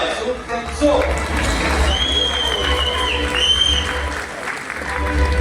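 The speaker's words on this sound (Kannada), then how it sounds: "ದಯವಿಟ್ಟು ಜೋರಾದ ಚಪ್ಪಾಳೆಯೊಂದಿಗೆ ಸ್ವಾಗತಿಸಿ" An awards-ceremony audience applauds without pause, a dense wash of many hands clapping with some crowd noise and cheering, and a voice speaks over the ovation.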